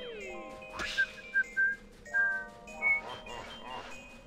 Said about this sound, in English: I shouldn't be whistling, because that's probably very bad for my mic.